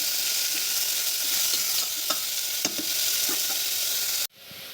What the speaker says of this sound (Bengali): এখন কেটে রাখা পেঁপেগুলো দিয়ে দিলাম। পেঁপেগুলো একটু তেলে ভেজে নেব।